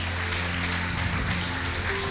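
Congregation at a Sunday church service claps together in a dense, steady wash of applause, with low sustained organ or keyboard tones humming underneath throughout.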